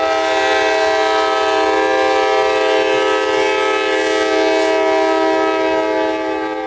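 A freight locomotive on the Palmetto Subdivision moves up alongside loaded juice cars to couple on, its horn blaring loud and near in one steady, unbroken chord that holds for several seconds.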